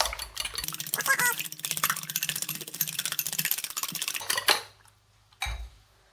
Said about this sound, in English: So you can use, I'm using a cooking fork, or you can use a whisk